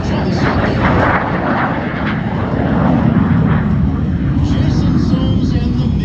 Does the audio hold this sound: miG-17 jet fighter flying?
yes